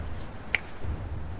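One crisp finger snap, sharp and isolated, cutting through a low, quiet background.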